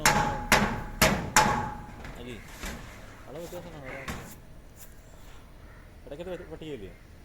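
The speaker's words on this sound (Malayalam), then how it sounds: "നമ്മൾ ഓട് ഷീറ്റിൻ്റെ പട്ടികയിൽ നമ്മൾ ആ സെൽഫ് സ്ക്രൂ അടിക്കുന്ന ഒരു വീഡിയോ ആണ് ഞാനിപ്പോൾ കാണിച്ചുകൊണ്ടിരിക്കുന്നത്" Self-drilling screws are driven into the purlins of a roof sheet during roof welding work: a few loud, sharp percussive bangs at the start, followed by quieter clatter, with a person talking through the rest.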